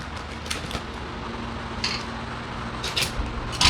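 Short scissor snips through adhesive tape while laminating with tape by hand, a few crisp cuts scattered across a quiet indoor background, close and moderately soft.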